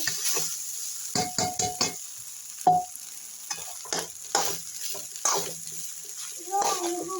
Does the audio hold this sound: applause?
no